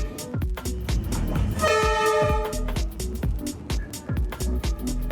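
A train horn sounds briefly amid a rattling, rhythmic clatter of rail cars passing close by at the Train Track Cafe in Vietnam.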